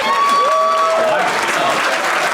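Stand-up comedy show audience breaking into applause, a loud, close burst of clapping with some crowd noise that holds steady across the moment, while a voice speaks over it.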